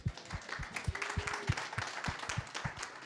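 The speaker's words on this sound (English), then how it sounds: "All right, round of applause." A small audience applauds after a talk on digital patient care, with sparse, individually audible claps in an uneven rhythm, fairly quiet and somewhat distant.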